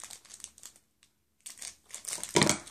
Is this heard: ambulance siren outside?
no